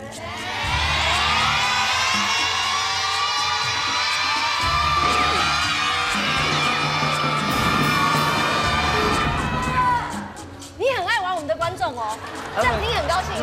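A television quiz-show studio audience screams and cheers loudly and continuously for about ten seconds, a dense high-pitched crowd roar that breaks off, followed by people talking.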